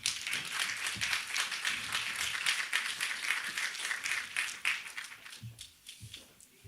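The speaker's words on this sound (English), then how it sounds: "Let's give our panel a round of applause." An audience at a women's forum gives a panel a sustained round of applause, a dense wash of many hands that fades over the last seconds as a few claps trail off.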